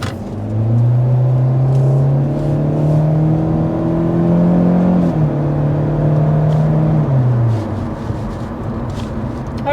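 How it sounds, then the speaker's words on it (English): A 2024 Hyundai Elantra under hard acceleration, its engine note climbing steadily through the gears with a brief dip at each shift, a loud close-up drone that keeps going for about eight seconds. "let's go ahead and start with a hard acceleration"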